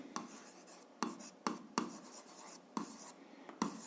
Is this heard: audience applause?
no